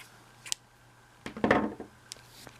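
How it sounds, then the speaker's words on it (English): Scissors snip through crochet yarn, a couple of short close clicks followed by a brief crisp cutting rasp, quiet and with no talking. "I'm going to cut the yarn,"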